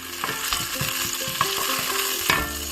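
Whole spices (bay leaf, cinnamon sticks, cloves, cardamom and peppercorns) sizzle in hot ghee in a pan for prawn biryani, a steady frying hiss with repeated clinks and scrapes of stirring.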